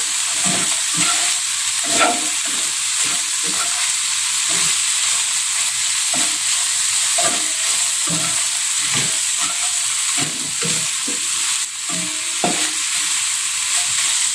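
A pot of Johor laksa with asam gelugur just added gives off a loud, continuous hissing simmer while a utensil stirs it in repeated soft scraping strokes, close and steady for the whole stretch.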